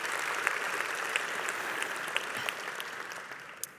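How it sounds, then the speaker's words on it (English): Audience applause at Redding's 2024 State of the City speech: a steady wash of clapping from a sizeable crowd, even and fairly close, tapering slightly at the end with no talking over it. "You can clap for that, thanks."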